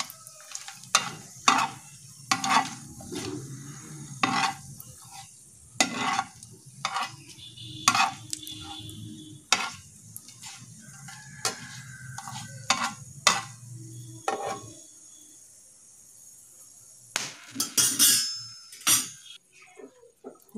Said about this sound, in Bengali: আর লবঙ্গ, এলাচ ও দারচিনিটাও এর মধ্যে দিয়ে দেব, এবং এটা প্রথমে একটু ভেজে নেব।